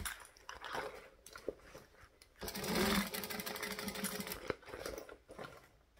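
A sewing machine stitching around a fabric bag runs in a short burst, then a longer steady whirring run with rapid needle rhythm, close by amid light handling noises.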